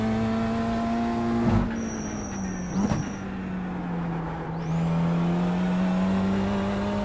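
BMW M2 race car on a hot lap in the video game iRacing, a loud steady engine drone with a strong low tone that dips and rises through gear shifts, with brief tire squeal and bumps along the way, no speech.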